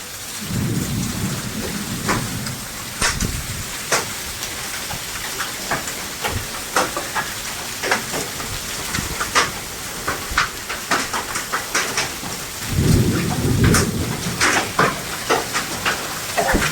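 Large hailstones pelt down hard in dense, sharp impacts during a Kalbaisakhi storm in Talcher, while deep thunder rumbles twice, near the start and again later, loud and close.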